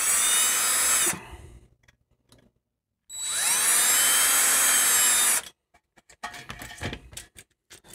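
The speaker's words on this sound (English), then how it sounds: "I'm going to drill some little pilot holes here to start with." A power drill bores small pilot holes in two loud, steady whining bursts separated by silence, followed by scattered handling clicks and knocks close by.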